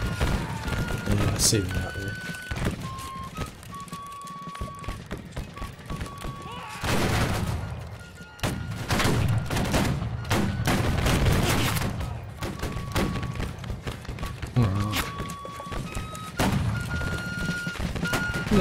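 Massed musket volleys crack and boom across a Civil War battlefield in the game Battle Cry of Freedom, with repeated loud bursts of firing and scattered single shots over several seconds, while someone talks briefly partway through.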